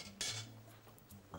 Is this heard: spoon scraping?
yes